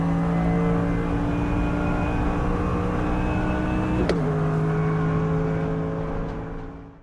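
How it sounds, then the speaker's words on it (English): A Lexus race car in a racing video game launches from the start, its engine holding a loud steady drone that steps down in pitch at a sudden gear change and then fades out at the end. "Let's see if we can take the Lexus to victory this time in our hands. Solid launch."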